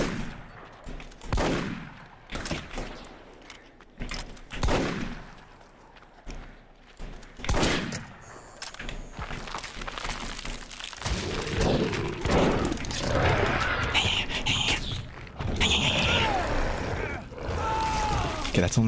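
Gunfire in a video game, a series of sharp shots and bursts spread through the stretch amid game noise and thumps, with people talking over it.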